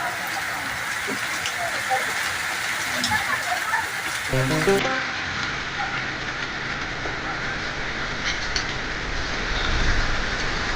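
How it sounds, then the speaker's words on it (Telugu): Moderate rain at a four-road junction in Kalluru in late afternoon, a steady broadband hiss of falling rain with passing traffic rumble and some faint background voices. "సాయంత్రం 4 గంటల తర్వాత కల్లూరు 4 రోడ్ల కూడలిలో మోస్తారుపాటు వర్షం కురుస్తున్న దృశ్యాలు ఇప్పుడు మనం చూస్తున్నాం"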